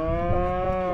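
An older cow standing under a farm shelter gives a single sustained, resonant moo that fills the whole moment, close and loud with no other sounds.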